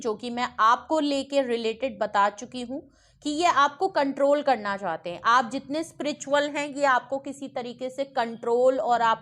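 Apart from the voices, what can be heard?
No everyday noise stands out behind the speech.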